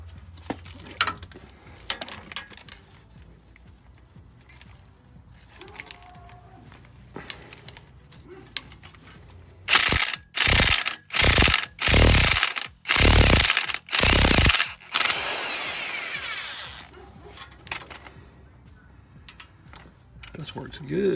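A 1/2 inch drive ratchet works on a stubborn exhaust manifold bolt of a Chevy Silverado, giving a run of about half a dozen loud, sharp ratcheting bursts in quick succession after quieter handling sounds.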